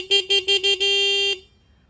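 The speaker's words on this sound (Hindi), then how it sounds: "हॉर्न देखा जाए तो नॉर्मल सा है जैसे सारी बाइक्स में आता है" A Hero Xtreme 160R motorcycle horn beeps four times in quick short bursts, then sounds one longer sustained honk before cutting off, loud and close.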